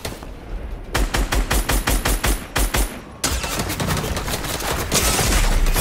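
Fortnite Chapter 4 gunfire: a loud, rapid string of evenly spaced shots, then a dense, sustained volley of continuous firing, with no talking.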